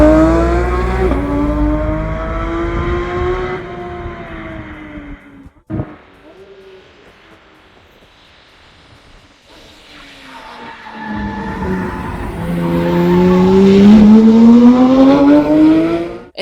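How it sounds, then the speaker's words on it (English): Porsche sports cars are driven fast around the track at the Porsche Experience Centre Toronto. A loud engine climbs through the revs, then fades to a quiet lull before another car roars up again, close and strong. "Porsche trained drivers are taking them through the Porsche Experience Centre laps."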